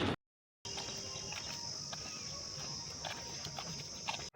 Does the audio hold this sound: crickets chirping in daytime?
yes